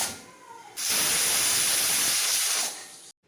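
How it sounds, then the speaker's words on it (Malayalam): A pressure cooker cooking lentils and vegetables lets out a sharp burst of steam, a loud steady hiss lasting about two seconds before cutting off. "കുക്കർ അടച്ചു വെച്ച് 2 വിസിലിൽ വേവിച്ചെടുക്കാം"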